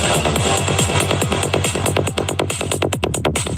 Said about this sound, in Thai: อันนี้เป็นเสียงของมาเชลนะ